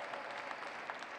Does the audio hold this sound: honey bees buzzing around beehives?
no